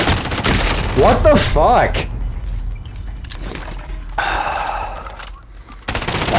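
Gunfire from a player's weapon in an online shooter game crackles in bursts early on, mixed with game effects, while players talk and curse over it.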